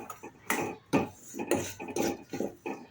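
Semolina (rava) roasting in a pan with peanuts, stirred briskly: a series of close scraping and clinking strokes against the pan, about five or six in quick irregular rhythm, fairly quiet.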